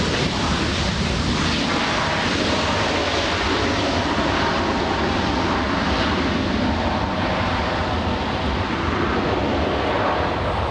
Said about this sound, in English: we have Southwest 2423 flying in from Nashville, Tennessee. It's touching down right now.